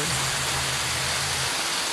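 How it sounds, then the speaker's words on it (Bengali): Heavy rain pours steadily in Muktagachha, Mymensingh, a dense, even hiss of drops close by throughout, with a low hum underneath for the first part. "আজ প্রচুর পরিমাণে বৃষ্টি হচ্ছে"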